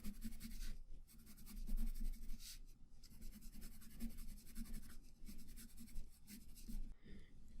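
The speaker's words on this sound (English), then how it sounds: "I'll just quickly sketch that in." Pencil sketching wood grain texture on paper, a steady run of soft scratchy strokes with brief pauses between them, close and fairly quiet with no talking.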